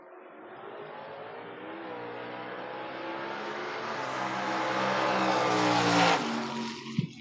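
Two drag cars, a Mustang and a Camaro, launch side by side at a Door Wars drag race, engines rising from a deep rumble to a loud, climbing roar as they accelerate down the strip, with a sharp peak near the end.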